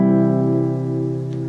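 A single open chord is strummed on guitar and rings out close and full, slowly fading over about a second and a half with no voice.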